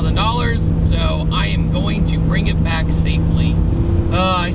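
Engine of Adam LZ's 650HP Nissan R34 GT-R heard from inside the car, a steady deep resonant drone running continuously beneath a person talking throughout.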